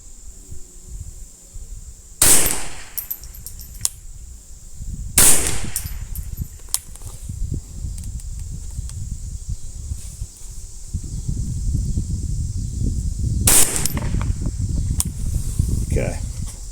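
Three sharp rifle shots from a Ruger 10/22 firing Midas Plus ammunition at a benchrest target, spaced several seconds apart, with crisp cracks over outdoor wind noise and faint handling sounds.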